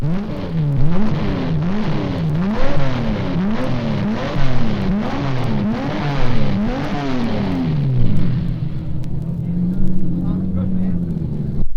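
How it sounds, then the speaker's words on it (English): A 3-liter Maserati race car engine at Sebring, loud and close, revving up and down in repeated rhythmic bursts before settling to a steadier idle-like drone near the end. "arrives in one of the 3-liter Maseratis, cocking his ear over the side of the car for defect"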